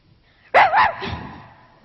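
A performer on a concert stage imitates a big dog barking with the voice, giving one loud, close woof-like burst that trails off into a fading growl.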